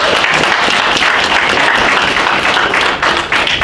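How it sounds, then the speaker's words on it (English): An audience at a Black History Month market event in Oshawa breaks into sustained, loud clapping that continues steadily, with only a brief dip near the end. "Give them a big round of applause"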